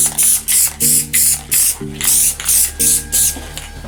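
Aerosol spray paint can hissing in regular short bursts onto a Warhammer 40k Tyranid miniature, about eight even puffs close up, with a faint rattling mechanical hum underneath.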